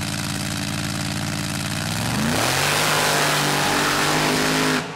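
Bruce Wilson's mud truck roars down a mud drag track at a 2011 event, its engine revving loud and close and climbing sharply in pitch partway through, then cutting off abruptly near the end.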